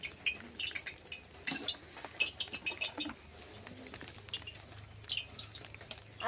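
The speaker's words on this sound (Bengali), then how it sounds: "তো আজকে ভোরবেলা থেকে বৃষ্টি পড়ছে, বৃষ্টি শুরু হয়েছে।" Early-morning rain on a farm falls as scattered, irregular drips and patter at close range, quiet between the sharper individual drops.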